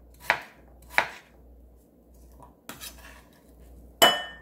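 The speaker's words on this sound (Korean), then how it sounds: "다지기에 넣어서 다져줄 겁니다." A large potato is minced in a kitchen food chopper: five sharp chopping strikes at irregular spacing, close and fairly loud, each a crisp clack against a quiet background.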